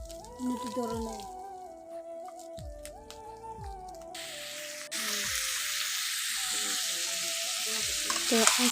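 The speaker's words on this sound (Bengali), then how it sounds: "ম্যারিনেট করা মাংস তেলে দিয়ে ভাজা" Marinated chicken fries in oil: a gentle hiss at first, then a loud, dense sizzle bursting in midway and holding steady, all beneath melodic background music.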